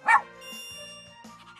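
A cartoon dog in the Super Why! Create a Super Dog game gives one bright, short bark, then a softer sustained musical tone holds underneath, with a second faint yip near the end.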